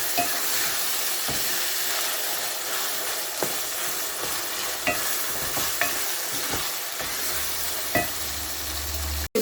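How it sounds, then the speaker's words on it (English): Puree tomatoes go into a hot pan, a steady sizzle with scattered clinks and scrapes from a stirring spoon, close and moderately loud with no voices. "So now I'm gonna put in puree tomatoes"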